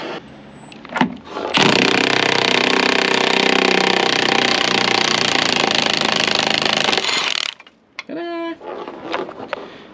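A pneumatic impact gun rattles loudly and continuously at close range while undoing a nut on the suspension of an ERF EC truck, then stops, leaving a few short mechanical clanks and bursts.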